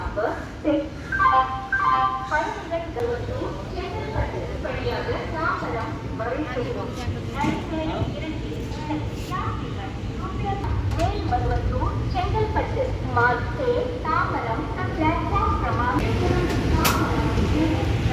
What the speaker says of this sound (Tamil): விழுப்புரத்தில் வந்து நம்ம வண்டி கிளம்பிகிட்டு இருக்கு டுவர்ட்ஸ் திருவண்ணாமலை